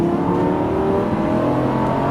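A Lamborghini LP570 Superleggera on a racetrack accelerating at full throttle, its engine note rising steadily in a loud, continuous close-up roar with no talk.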